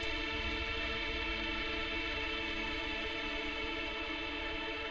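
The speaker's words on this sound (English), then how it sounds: "Eventually the algorithm on the reverb just runs out." Dense, washed-out tail from a reverb plugin in a music production session, a steady wall of sustained effected sound holding at an even level for several seconds without fading.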